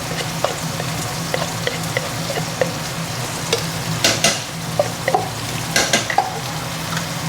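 Garlic frying in a pan gives a loud, steady sizzle up close, punctuated by repeated clacks and scrapes from a spoon stirring it.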